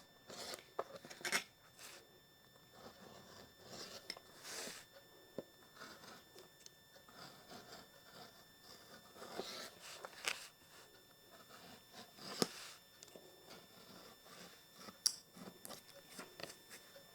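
Scissors cut out fabric with reflective material for an oven mitt, quiet irregular snips and crunches scattered over about seventeen seconds, close but faint.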